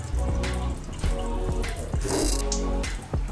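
Tap water runs steadily into a sink during a handwashing demonstration, a continuous splashing stream with intermittent knocks and bursts of spray as hands move under it.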